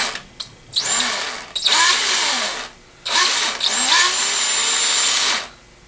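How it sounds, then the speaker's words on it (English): A power drill bores a hole into the end of a screwdriver handle in two long whining bursts, each spinning up and then down, with short pauses and brief starts between them, close and loud. "Go ahead and start our hole and just drill until we get it deep enough."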